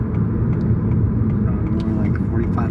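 A car glides along at about 45 miles an hour after a light touch of the brakes, its engine and road rumble steady and close throughout, with no talking.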